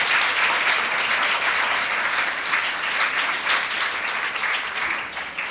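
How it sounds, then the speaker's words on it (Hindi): A congregation bursts into loud, sustained applause during a Pentecost Sunday homily at a Catholic church, dense clapping filling the whole stretch without letting up. "सबसे पहले हम जोरदार तालियों में एक दूसरे को ईद पेंतिकोस्त जो है वो"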